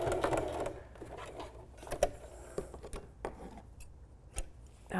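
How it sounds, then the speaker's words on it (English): Sewing machine stitching slowly through thick layers of binding on an upcycled T-shirt flutter sleeve, a steady close mechanical whirr with light ticking that pauses and restarts, heard alone without talk. "go a little slower here because you are sewing through a lot of layers when you go through that binding"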